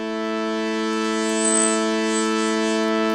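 Software synthesizer tone with its filter resonance turned up, a steady buzzy drone with a squeaky, whistling high overtone that swells and wavers midway, sounding alone for about three seconds.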